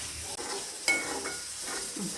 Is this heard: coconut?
yes